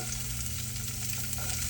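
Onions sauté in a hot pan as the base for a chili sauce for chili cheese fries. A steady, close sizzle runs throughout with a low hum beneath it and no talking.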